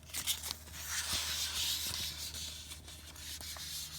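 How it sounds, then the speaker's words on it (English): Fine sandpaper rubs a furnace flame sensor in close, quiet scratchy strokes: soft, irregular scraping over a steady low hum, with no talking. "using some really fine sandpaper to clean it."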